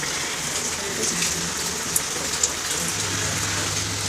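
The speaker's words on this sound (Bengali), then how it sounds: "আর বৃষ্টি তো অলরেডি হয়েই যাচ্ছে, মানে সবসময় হয়েই যাচ্ছে" Heavy rain from Cyclone Remal pours steadily onto surfaces close by in a continuous loud hiss, with a few sharper drops standing out.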